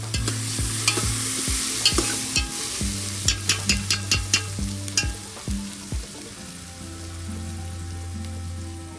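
Onions frying in a pot for mutton biryani, stirred steadily so they don't stick, with repeated close scraping clicks of the spoon over a continuous sizzle and a steady tonal hum in the background.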